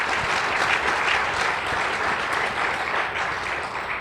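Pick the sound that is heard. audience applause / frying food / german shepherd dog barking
audience applause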